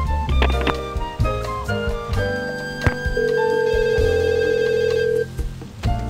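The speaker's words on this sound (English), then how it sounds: "We were, till this damn phone rang." A telephone rings in the Leisure Suit Larry 7 video game, a steady electronic ring sounding over game music and sound effects, moderately loud with no voices.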